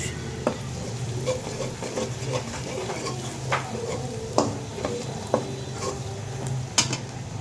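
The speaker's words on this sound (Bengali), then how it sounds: "আমার মশলা একটু কষানো হয়ে গেছে" Spice paste with turmeric and chilli being sautéed in a pan for a hilsa fish curry, giving a steady low sizzle with repeated stirring scrapes and clinks of a spoon against the pan.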